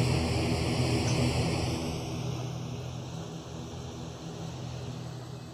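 An Antonov An-70 propeller aircraft takes off in Roblox Aeronautica, a continuous loud roaring engine drone with a broad rushing wash that slowly eases in level.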